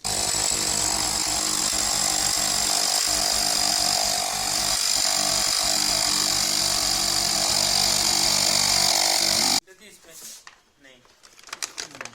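An air pump runs steadily at close range inflating an electric scooter tyre during a restoration, a loud continuous mechanical drone for about nine seconds before it cuts off, followed by quieter handling noises.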